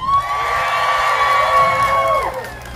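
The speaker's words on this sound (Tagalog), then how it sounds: "Palakpakan na may sigawan" A crowd at a Philippine Independence Day celebration show cheers and shouts with whoops, loud and continuous over a few seconds, with some clapping mixed in under the voices.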